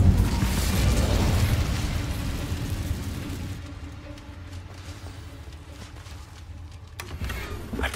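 Incendio fire spell cast in Hogwarts Legacy: a loud, bursting whoosh of flame that opens strong, roars for several seconds, then fades into a low rumble with a brief flare near the end.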